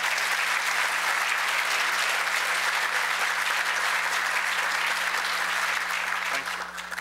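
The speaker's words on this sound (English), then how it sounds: "May we have another round of applause for our distinguished chairman" Sustained, dense applause from a conference audience fills the hall for about seven seconds at steady strength, tapering slightly at the very end, with a faint hum underneath.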